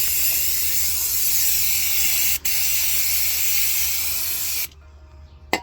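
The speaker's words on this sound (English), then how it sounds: "I'm just going to hit it with some brake cleaner just to get all the shit off it and tighten everything up." Brake cleaner sprays onto parts of a Mini car in a loud, close, continuous hiss that breaks off briefly once, then cuts out near the end.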